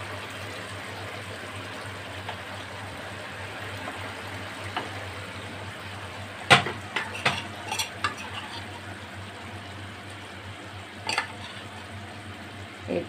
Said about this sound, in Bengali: এবার আমি এটার মধ্যে দিয়ে দেব ভেজে রাখা ভেন্ডি আর টমেটো